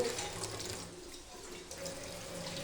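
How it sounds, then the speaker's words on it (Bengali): A splash of water is poured into frying spices in a pan while cooking spiced puti fish, a faint, soft liquid rush and patter heard alone. "মশলাটা কষার জন্য সামান্য একটু পানি দিয়ে দেব"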